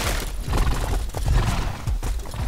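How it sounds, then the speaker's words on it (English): Horse hooves clatter in a rapid clip-clop with a brief whinny in the War of the Roses medieval combat video game, dense and loud throughout with no talk over it. "I'm gonna press E to dismount my horse"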